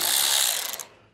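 Socket ratchet turning 8 mm bolts on a 2022 Jeep during base plate installation, a quick close buzzing burst of rapid pawl clicks lasting under a second before trailing off.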